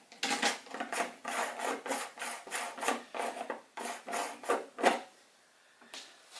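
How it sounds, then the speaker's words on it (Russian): Lenses being unscrewed from an FKD camera give a series of dry, rasping scrapes in close, repeated strokes with short gaps, then a quiet pause and a faint final scrape. "Объективы откручиваются."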